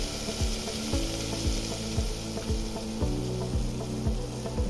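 Cumin seeds roasting in a pan for samosa filling crackle with a steady close sizzle, broken by regular scraping stirs about every half second.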